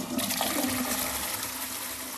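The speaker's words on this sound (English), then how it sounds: "you pull this handle up, and as you see, the bottom of the loo drops away, and so water rushes in, washes the pan" A Victorian toilet with a pull-up handle and drop-away pan bottom flushes, a loud steady rush of water washing through the pan and continuing close up without talk.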